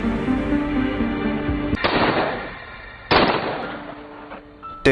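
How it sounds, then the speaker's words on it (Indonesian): Gunshots ring out as several bullets are fired into a psychopath, two loud sharp blasts with trailing decay over a droning background, plus the onset of a third at the very end, no talk. "Nami menyarangkan beberapa peluru ke dalam tubuh psikopat"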